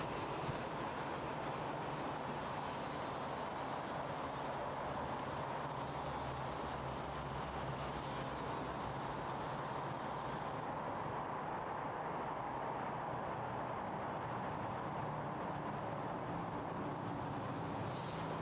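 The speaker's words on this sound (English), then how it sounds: "So this is the hanging train." The Wuppertal suspended hanging train runs with a constant, broad rushing roar, steady and fairly loud throughout, with no voices.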